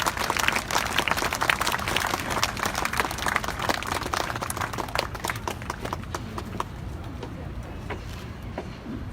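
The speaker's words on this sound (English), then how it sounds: "Please give a big round of applause" A crowd at a memorial anniversary event gives a big round of applause, dense and steady clapping throughout with some sharper individual claps standing out, slowly thinning and quieting toward the end.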